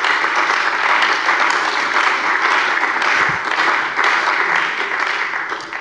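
Members of a German parliament's plenary session applaud during a government statement: a thick, continuous wash of many hands clapping at once, loud and sustained, fading slightly toward the end.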